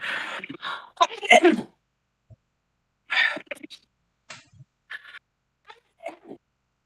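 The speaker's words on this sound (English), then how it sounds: "Oh, sneezing." A couple of sharp sneezes burst out at the start, followed by scattered short breaths, sniffs and small vocal sounds separated by silence.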